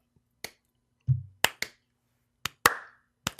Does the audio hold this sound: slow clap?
yes